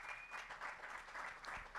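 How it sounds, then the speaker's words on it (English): Faint audience applause for a political discussion panel, steady continuous clapping throughout this short stretch with no talk over it. "Can we get a round of applause for our panel?"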